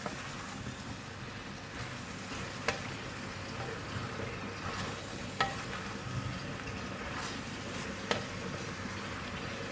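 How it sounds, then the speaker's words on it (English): Brinjal stir-frying with curry powder in a pan, a soft continuous sizzle with occasional sharp spatula taps against the pan at a slow, irregular pace. "once add in the brinjal, then we're gonna give it a mix."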